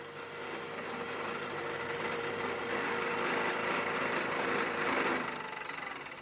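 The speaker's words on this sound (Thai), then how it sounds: "เสร็จแล้วก็ เจาะดอกที่สองลงไปนะครับ" A steady whirring drill boring into a starter motor with a second drill bit, running continuously for several seconds, close and fairly loud, with a grinding edge as it bores in, easing off near the end.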